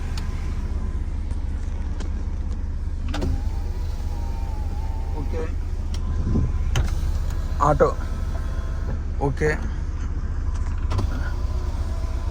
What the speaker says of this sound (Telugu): 4 మిర్రర్ వర్క్ అవుతున్నాయండి, అడ్జస్టబుల్ మిర్రర్స్.